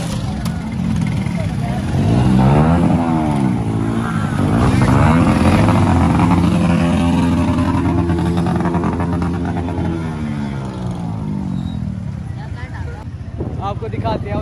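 A motorbike ride, its engine droning and rising in pitch as it accelerates, heard close and loud with wind noise for a sustained stretch.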